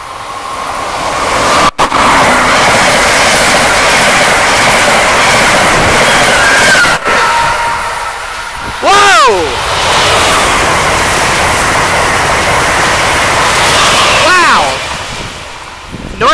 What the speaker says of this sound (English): I have an Amtrak train coming right up track number 4